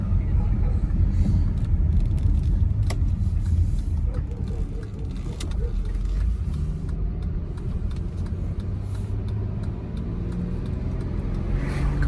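Audi Allroad 2.7 biturbo on a drive, a steady low engine and road rumble heard from inside the cabin with faint rattles and a slight pitch rise as it picks up speed.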